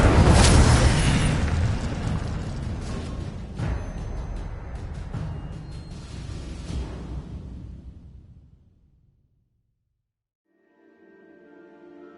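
A loud, roaring fire-spell burst from the Incendio charm in the video game Hogwarts Legacy, an explosive whoosh that crackles and rumbles for several seconds before fading out, followed by a faint low tone.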